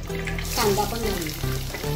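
Chopped onion hitting hot oil already crackling with cumin, mustard seeds and bay leaf for a cauliflower and pea bhaji, giving a loud, steady sizzle that surges as it goes in, with stirring.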